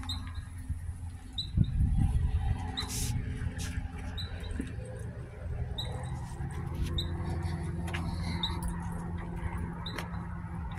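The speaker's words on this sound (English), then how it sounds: "I can hear the squirrels in the background." Squirrels chirp in a quiet park, short high chirps repeating every second or so at a moderate distance over a low background rumble.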